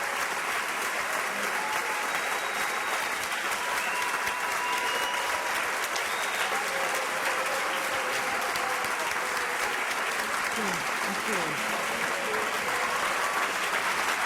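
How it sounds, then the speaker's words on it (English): An audience at a 2008 Green Party presidential debate claps for Ralph Nader, with dense, sustained applause that holds at a steady level throughout. "Applause for Ralph Nader."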